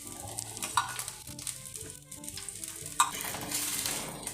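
Carrot-and-wheat dosa batter sizzles with oil on a hot pan, a close crackling hiss broken by a few sharp scraping and tapping sounds, with no voices.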